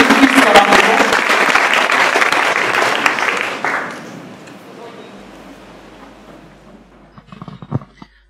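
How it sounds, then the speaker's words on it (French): Loud crowd applause at a church service for several seconds that fades away, followed by a few scattered sounds near the end. "Applaudissez le Seigneur"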